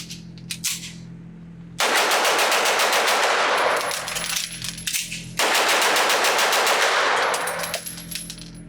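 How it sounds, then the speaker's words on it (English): Two rapid strings of loud gunfire from a Watchtower Apache double-stack 9mm 1911 pistol at a range, each burst of quick successive shots lasting a few seconds, close and dominant with no talking. "Can I shoot this gun fast? Yeah, I can shoot this gun really fast."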